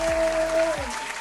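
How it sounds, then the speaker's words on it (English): Hands clap in a short, close burst of steady, dense clapping lasting about a second, heard without any talking. "Clap hands, clap"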